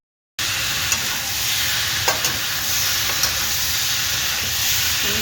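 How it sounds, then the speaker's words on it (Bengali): Elephant foot yam and potato fry in oil with cardamom, dried red chillies, bay leaves and cumin, a steady close sizzle with occasional sharp clinks of stirring, starting after a short silence. "এই ওলকচুটা এবার আর আলুটা লাল করে এর সাথে ভাজবো।"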